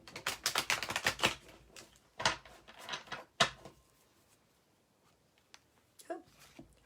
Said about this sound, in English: Let me do a shuffle again.